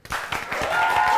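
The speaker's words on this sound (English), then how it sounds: "round of applause" An audience claps in a sustained round of applause at a live staged event, a dense, steady patter that builds slightly and holds for just over a second.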